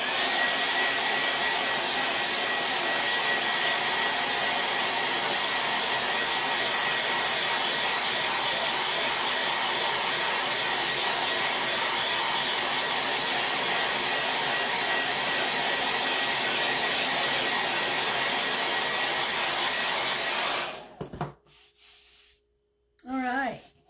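A blow dryer runs steadily and loudly on a Chalk Couture transfer for a craft wood plank, a constant broadband whoosh for about twenty seconds before cutting off abruptly, followed by a brief quiet handling noise.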